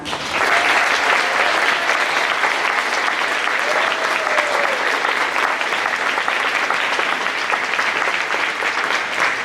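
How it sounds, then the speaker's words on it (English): Sustained applause from a high school spring concert audience, dense and steady clapping that fills the whole stretch without pause. "please, let's give them a round of applause"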